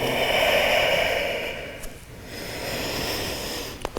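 Slow, full, steady breathing during a yoga hamstring stretch, a close airy inhale and exhale with a brief pause between breaths, heard alone without talk.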